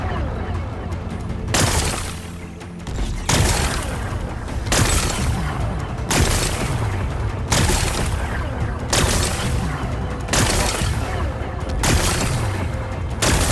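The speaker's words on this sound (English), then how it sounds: "It's exploding." Rocks blast apart in Horizon Forbidden West, a series of roughly eight loud booming explosions with crumbling debris at regular intervals of about a second and a half, each sharp onset followed by a rumbling tail.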